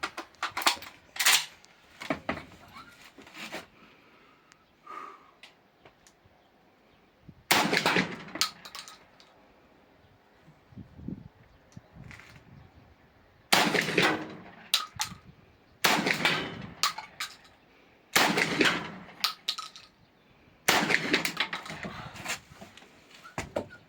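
A 12-gauge smoothbore shotgun fires solid monolithic slugs outdoors, with about five loud, sharp reports spaced several seconds apart, each followed by a brief echoing decay.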